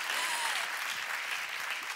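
Audience applause at a jive dance performance, steady dense clapping from a crowd filling the whole short stretch, moderately distant.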